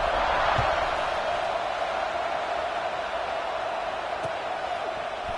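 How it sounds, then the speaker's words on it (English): Steady crowd buzz filling a football stadium during a game, a broad continuous roar with no breaks, heard from within the stands. "this crowd is buzzing after that last score"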